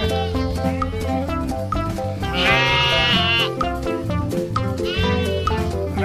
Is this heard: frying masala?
no